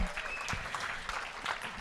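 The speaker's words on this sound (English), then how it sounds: "So a big round of applause for this community." An audience applauds the community at a TechTO event in Toronto, a short burst of clapping with a faint tone and some crowd noise mixed in.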